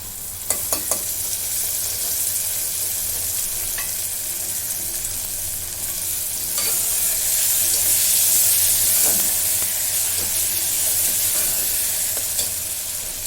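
Tomatoes sautéing with leftover vegetables in a pan, a continuous close sizzle with scraping stirs and clinks of a spatula, swelling louder midway, without talk.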